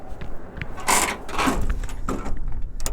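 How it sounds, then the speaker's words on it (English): Creaking hinges on the bed side of a 1993 Suzuki 4x4 Japanese mini truck, a few drawn-out squeaky groans as the side is moved, close and fairly loud with no talking. "That creaking you hear means that the hinges just need a little bit of oil."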